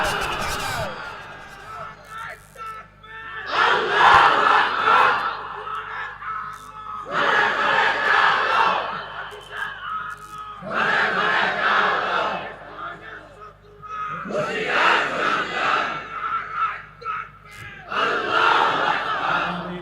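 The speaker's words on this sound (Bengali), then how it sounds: "হাত তুলে তাকবীর দিয়ে আল্লাহকে দেখা দেন" A large rally crowd roars takbir chants in repeated loud waves, about six surging shouts separated by brief lulls, with a speaker's voice prompting between them.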